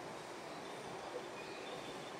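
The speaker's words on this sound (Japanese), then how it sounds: "4番線電車が通過いたします" A steady, low rumbling roar of a Meitetsu 2200 series limited express train passing through Kami Otai station without stopping, continuous and fairly faint, with no clear breaks.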